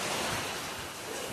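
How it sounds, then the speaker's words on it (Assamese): Heavy rain and wind lash down in a storm under a darkened sky, a dense, steady roar close by for the whole moment, with no voices. "এয়া বতাহ আৰু বৰষুণ, খুব ডাঙৰ বৰষুণ"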